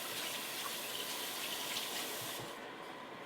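Tap water runs steadily while raw chicken is rinsed in a kitchen sink for chicken cacciatore, a broad continuous gush that thins slightly near the end, with no talk.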